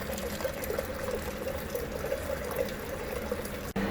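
Water pours steadily over corn mash during rinsing in a home brewing setup, a close continuous splashing gush with no speech.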